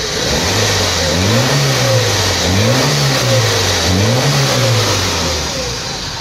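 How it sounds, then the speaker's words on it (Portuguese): A Ford CHT 1.0 car engine fitted with 1.6 cylinders runs loud and near, shaking slightly, its pitch rising and falling in a few smooth revs over a steady rumble. "Mas o motorzinho já funcionou perfeitinho"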